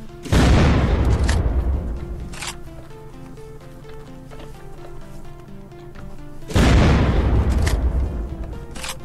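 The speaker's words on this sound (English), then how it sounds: "Shooting a rocket." Two rocket launcher shots with explosions in the video game Unturned, each a loud sudden boom that decays slowly, spaced about six seconds apart, with faint clicks and movement sounds between them.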